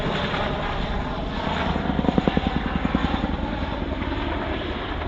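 An RAF Chinook twin-rotor helicopter performs at the Cosford Airshow, its loud engine roar carrying a rhythmic rotor thudding that swells and fades as it flies.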